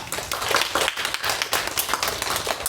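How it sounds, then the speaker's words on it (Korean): A church congregation at a Sunday worship service claps together. The sound is a dense, continuous patter of many hands, moderately loud and sustained through the moment, with no voices standing out. "우리 하나님께 영광의 박수 한번 올리겠습니다."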